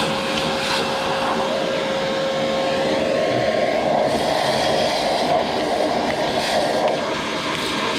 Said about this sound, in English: Vacuum all this crud off too.